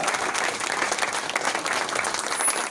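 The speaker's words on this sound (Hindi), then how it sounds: "जोरदार तालियां हो जाए, जोरदार तालियां" Enthusiastic crowd applause, many hands clapping loudly and continuously at close range.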